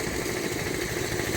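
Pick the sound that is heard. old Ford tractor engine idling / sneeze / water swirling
old Ford tractor engine idling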